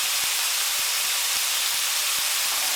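Onions tossed into a hot pan for beef Diane hiss loudly in a dense, steady wall of sizzling steam, with faint soft knocks underneath and no talking.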